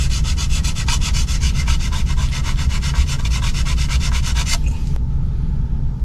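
Guitar frets being crowned with the largest size Z file, with fast rhythmic rasping strokes repeating steadily and close for about four seconds before stopping abruptly, under a constant low rumble.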